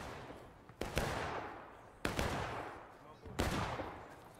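Guns fire in three sharp, loud bursts about a second apart during a team shooting event, each crack trailing into echoing noise, with someone shouting orders in between.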